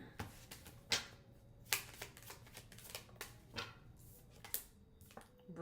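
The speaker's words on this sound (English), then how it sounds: "Let's get one card out of this deck." A single card drawn from a tarot deck, with a run of light shuffling riffles and crisp card flicks at a steady rhythm, close but quiet and heard alone with no voice.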